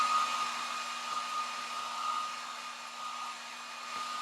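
A hair dryer blows steadily at close range, a continuous whooshing hum with a faint whine, running alone without any talking.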